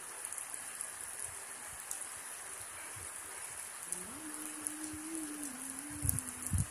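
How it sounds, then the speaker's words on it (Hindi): Heavy rain falls steadily in a continuous, fairly faint hiss outdoors, with a brief tonal hum and a few louder knocks toward the end. "बारिश बहुत तेज वाली हो रही है"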